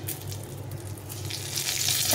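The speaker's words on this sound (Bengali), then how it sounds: "জিরেটাকে ভালো করে ভেজে নিতে হবে।" Cumin seeds sizzle steadily in hot oil over a low gas flame, a continuous close frying hiss that swells slightly toward the end, with no voices.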